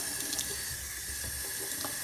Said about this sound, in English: Let's probably run the sink.